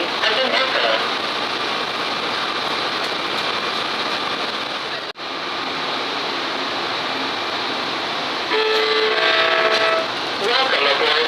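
Steady mechanical hum of an airport shuttle train departing, with a brief break midway and a tonal chime or whine near the end; no voices.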